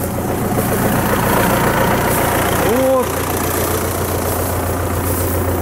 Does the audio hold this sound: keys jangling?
no